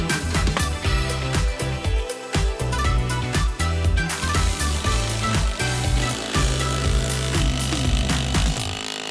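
A power driver drives screws through a pieced-together deck ledger board into a house. Loud, close bursts of motor whine and ratcheting repeat in uneven runs with short pauses between them.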